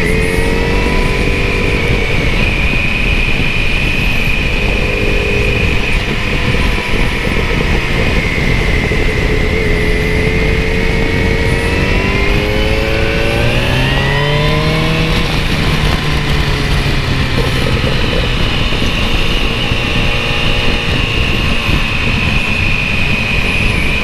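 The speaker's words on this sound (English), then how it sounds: "oh, there's a Ferrari." A passing Ferrari sports car and motorcycle engines on a winding road, a continuous loud engine drone with rising and falling pitch as revs change, heard from a moving bike.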